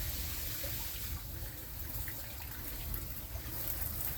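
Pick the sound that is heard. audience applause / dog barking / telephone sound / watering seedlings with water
watering seedlings with water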